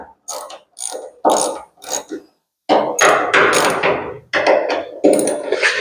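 Metal clicks and grinding bursts from screws being loosened on door hinges, close and fairly loud, in irregular clusters with short pauses between turns.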